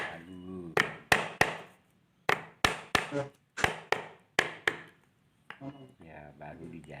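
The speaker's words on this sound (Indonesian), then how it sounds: "diratakan pakai palu." A hammer flattens a drilled book spine for rebinding with sharp, close wooden knocks, mostly in quick pairs and triples, followed by a brief spoken voice at the end.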